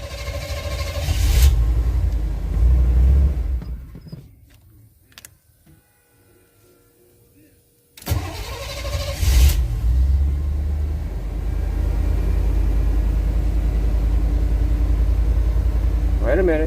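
The gasoline engine of a water pump rumbles, sputters, and drops to near silence for several seconds, then catches again and settles into a steady, even idle close by.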